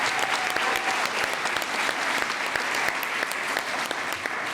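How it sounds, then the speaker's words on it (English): An awards gala audience gives sustained, dense applause, many hands clapping together in a steady roar that holds at the same level for the full few seconds. "I just want to give them a big round of applause one more time"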